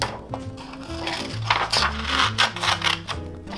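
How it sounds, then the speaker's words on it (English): A pair of scissors snips through blue paper while cutting out a flower shape, with crisp, irregular cuts close by over steady background music. "with a pair of scissors, I'll cut out the shape of a flower that I want"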